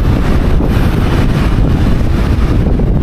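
Strong wind at the Bangui wind farm in Ilocos Norte blasts across the microphone, a loud, continuous low rumble with gusty buffeting throughout.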